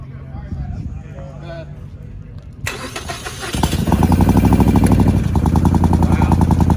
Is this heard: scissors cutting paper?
no